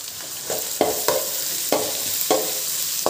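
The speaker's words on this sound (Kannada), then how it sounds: "ಈಗ ಒಂದು ಕ್ಯಾಪ್ಸಿಕಮ್ ಹಾಕ್ತಾಯಿದ್ದೀನಿ." Capsicum and half-boiled cabbage fry in hot oil for vegetable fried rice, a steady sizzle broken by a rhythmic series of scraping stirs close up, with no voices.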